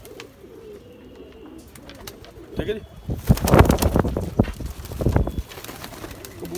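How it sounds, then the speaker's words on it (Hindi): Rare Rampur pigeons coo and rustle close by, the soft cooing rising into a busier burst of calls and fluttering, with someone speaking briefly among them. "ये असल हालत के दुनिया के नायाब कबूतर हैं।"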